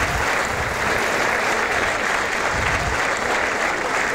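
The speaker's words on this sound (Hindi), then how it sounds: "ताली बजाकर स्वागत कीजिए" Studio audience applauding to welcome a guest onto a talk-show stage, a dense, steady clapping that holds at full strength for about four seconds with no voices over it.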